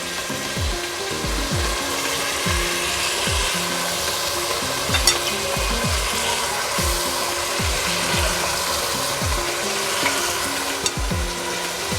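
Marinated mutton frying in spice paste for rezala, a steady close sizzle with repeated rhythmic scraping strokes of a spoon stirring through the pan.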